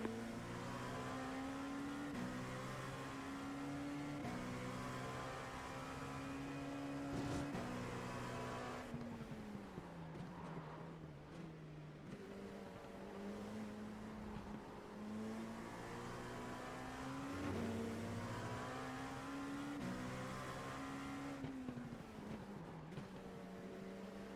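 Race cars in a sim racing video game played on a Cammus C5 direct drive wheel give a steady, droning engine whine. Pitch rises and falls as the cars accelerate and brake through corners, with no voices over it.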